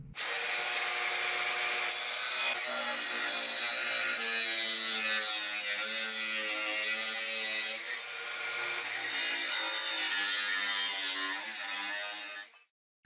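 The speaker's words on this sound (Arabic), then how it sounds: "وهقص بالصاروخ الاطوال المناسبه" An angle grinder cutting metal T-track to length for a drill press table, a loud continuous whining grind with shifting pitch that cuts off sharply at the end.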